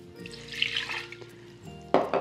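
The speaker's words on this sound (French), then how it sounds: "je commence par verser l'eau" Water poured into a blender jar as the first ingredient for a raw vegetable leather blend, a steady close liquid rush with a louder splash near the end; no talking.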